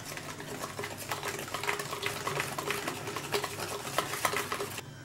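Cake batter of butter, icing sugar, egg and vanilla essence is mixed briskly, making a continuous rhythmic whirring and scraping that is fairly loud and close, with no voices.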